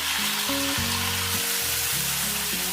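Steady, loud sizzling of onions frying in hot oil, a continuous crackling hiss with no voices.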